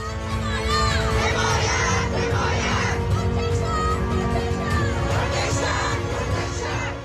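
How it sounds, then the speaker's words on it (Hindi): A large crowd of people in Kabul shouting together amid news footage, a dense, loud, continuous roar of overlapping voices and cries with high-pitched shouts rising above the mass. "काबुल में लोगों की भीड़ कह रही है कि हमें अपने मुल्क में नहीं रहना"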